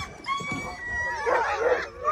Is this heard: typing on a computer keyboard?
no